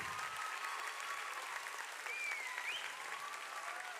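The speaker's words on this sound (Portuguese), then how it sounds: "Dá uma salva de palmas para o One Flow Arts." A church congregation claps steadily for a worship arts group, a sustained, fairly faint wash of applause with a whistle or cheer rising briefly through it.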